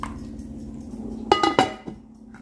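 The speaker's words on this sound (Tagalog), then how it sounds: "ito, hinahalo-halo ko po yan" A spoon stirs a pot of simmering chicken arroz caldo, giving a few close metallic clinks and scrapes against the pot over a low, steady cooking hum.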